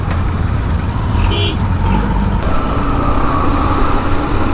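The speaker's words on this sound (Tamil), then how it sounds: "Too much of traffic even on Sunday." Steady road traffic rumbles loudly and continuously, with passing cars and heavier vehicles blending into a dense low drone throughout.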